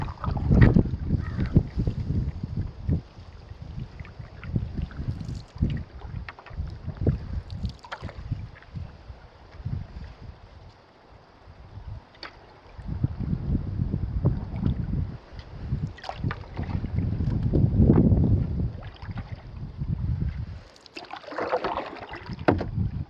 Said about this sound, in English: That was just my paddle.